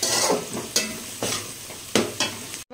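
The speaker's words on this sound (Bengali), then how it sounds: "এখানে ফ্রাইড রাইসের সবজি, কাজু, কিশমিশ সব কিছু একসাথে ভেজে নিচ্ছি" Fried-rice vegetables, cashews and raisins sizzle in a hot pan, with several sharp scraping stirs cutting through the steady frying hiss, close and fairly loud.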